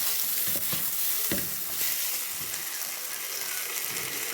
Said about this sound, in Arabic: هشوح بقى كده الزبيب مع الرز